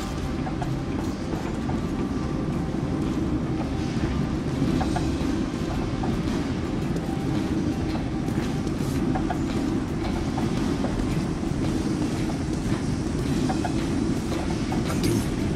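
Metro train car rolling along rails in Metro 2033 Redux, a steady dense low rumble with faint clattering running unbroken throughout, loud and close, with no voices.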